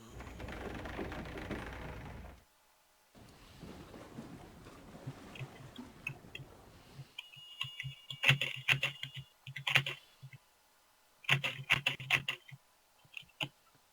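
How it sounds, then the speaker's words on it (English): Fingers tap on a computer keyboard in quick clustered bursts with short pauses, crisp and close, following a stretch of softer background noise. "Very suspicious typing."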